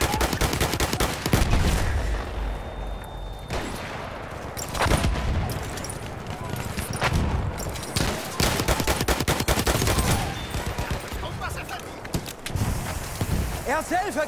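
Dense, rapid machine gun fire from the Battlefield 1 World War I shooter, loud and close, with bursts continuing nearly without pause and a few heavier blasts mixed into the clatter.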